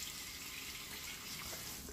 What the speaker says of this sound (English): When you rinse it, you do kind of have to give it a little shake to get all the water out of the open comb.